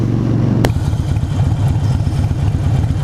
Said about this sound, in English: Another thing I love about my Sportster is the way it sounds. I mean, listen to that rumble.